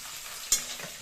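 Chillies fry and are stirred in a pan in a village kitchen, a steady sizzle with one sharp scrape of the stirring utensil midway.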